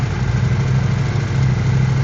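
KTM 790/890 Adventure motorcycle twin engine with a hard-starting fault, idling close and loud in a steady low rumble just after starting.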